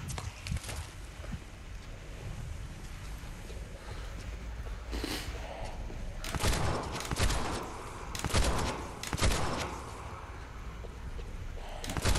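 Shotgun blasts in the zombie game Dead Island 2, a few loud bursts in quick succession over a steady background hum, with someone talking at times.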